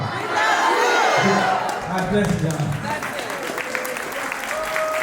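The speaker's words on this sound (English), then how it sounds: "Y'all clap." A crowd at a talk on healing the earth and seed sovereignty claps and cheers loudly. The applause is strongest at the start and stays steady, while the speaker keeps talking into a microphone over it.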